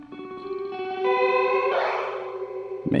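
A guitar pedal set through dip switches to a modulation effect, producing a sustained, warbling chorus-like tone that swells into a noisy, distorted wash before cutting off abruptly.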